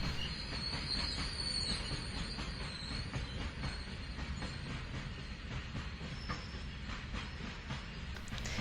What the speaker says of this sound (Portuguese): o trem segue para uma estação muito especial